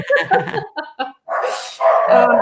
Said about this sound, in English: There's someone walking past again with dogs.